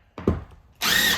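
A power drill boring into a 1968 Airstream Ambassador trailer, a brief bumping knock followed by a loud, close burst of high whirring as the motor spins up, with no talking.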